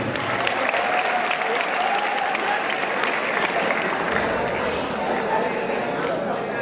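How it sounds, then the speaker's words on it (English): An audience at a school farewell function claps for a departing teacher, a sustained broad wash of applause with faint crowd murmur mixed in, steady throughout at a moderate level. "Please give a huge round of applause for our beloved Naufal sir."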